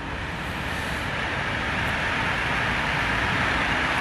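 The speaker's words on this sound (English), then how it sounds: "You have to wait a minute now because there's a train passing." A train passing near a children's playground in Sweden, a steady broadband rumble and rush that holds at an even, fairly loud level throughout.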